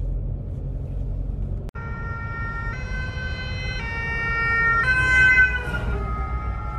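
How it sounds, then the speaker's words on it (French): Ambulance sirens wail through traffic stopped for several kilometres on a French road, their tones loud and close and stepping between pitches as they pass over a low hum of engines. "on est en train de voir en fait toutes les ambulances"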